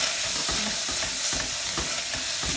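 Chopped green pepper and garlic are stirred in a hot pan for Sloppy Joes, with rhythmic scraping strokes over a continuous soft sizzle.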